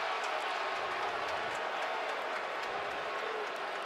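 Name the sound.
stadium crowd roaring at the Fiesta Bowl football game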